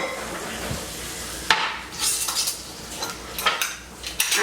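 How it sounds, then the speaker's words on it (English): Broccoli moved into a bowl with metal utensils, a sharp clink followed by repeated scraping and clattering of utensils against the dish, close and without talking. "So right now, I'm just getting the broccoli into the bowl"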